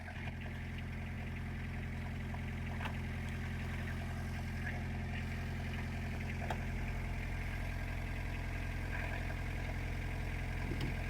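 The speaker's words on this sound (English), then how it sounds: "It's quite loud, isn't it? Welcome to the world of French diesels." A Peugeot 106 diesel engine idles steadily with a rough, clattering knock, a continuous close mechanical drone with no voices.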